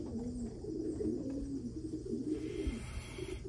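A racing pigeon coos softly and continuously at close range in a quiet indoor space, with low rolling murmurs and no talk.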